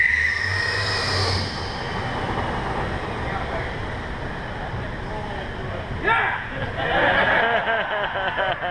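An electric car, driven in first gear only, pulls away with a low motor hum and road rumble beneath lively chatter and laughter from people inside.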